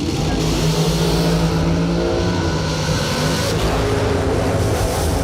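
Drag race cars launch hard down the strip at a bracket racing event, a dense, loud engine roar sustained throughout with a faint rise in pitch and no talk heard.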